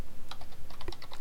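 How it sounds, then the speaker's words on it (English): Rapid keystrokes on a computer keyboard, a quick irregular run of clicks typed close by with no talking. "So we'll just type that out."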